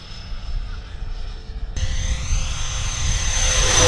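A Dynam Gloster Meteor radio-control jet flies at full throttle, its electric ducted-fan whine growing steadily louder and brighter as it passes close by, with a brief voice under it.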